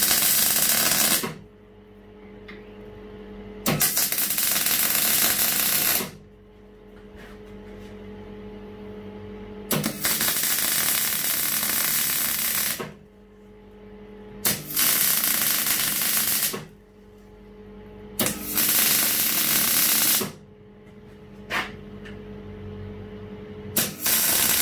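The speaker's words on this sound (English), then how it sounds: "I'm just going to weld all the way around" Welding runs around a DR200 motorcycle frame in several separate bursts of harsh, crackling buzz lasting a few seconds each, split by short quiet pauses.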